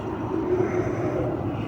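A brand-new small drone flies nearby, giving a steady, even whirring buzz with a faint high whine that holds level throughout, with no talking.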